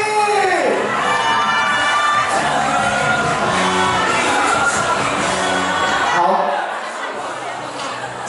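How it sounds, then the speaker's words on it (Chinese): Wedding banquet guests scream and cheer as a crowd at a large reception, with loud, sustained shouting and whoops from many voices that drop off near the end. "这是左手边的尖叫声"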